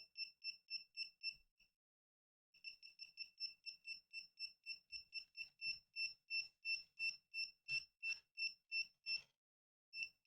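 Rapid repeated electronic beeping from a smart home device, pairs of sharp high tones in steady rhythm, a brief pause, then continuing faster, close and clear with faint handling noise.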